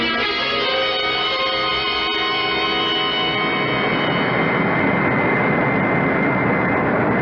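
An airplane takes off and flies, a radio-drama sound effect made of a steady, loud jet-like roar that thickens into broadband rushing noise as it climbs, with no voices.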